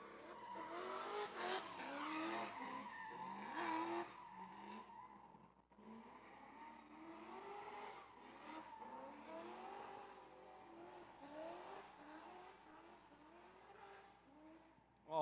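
A drift car at Big Indian Drift Pit roars and revs hard while its tires squeal in long wavering screeches, loud and continuous, with engine pitch rising and falling through the slides.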